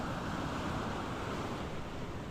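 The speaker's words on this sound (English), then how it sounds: "Here it is shallow, and the waves are not that strong yet." Ocean surf rolls onto the shallow beach at Praia do Paraíso in Perafita near Porto, a continuous close wash of waves with wind buffeting the microphone and no voices.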